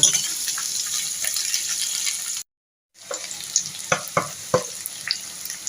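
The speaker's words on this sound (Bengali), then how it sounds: "পেঁয়াজটাও আমি দিয়ে দিলাম কড়াইয়ের মধ্যে।" Sliced onion sizzles in an oiled wok while cooking chilli chicken, a steady frying hiss that breaks off briefly, then resumes with sharp clinks and scrapes of stirring.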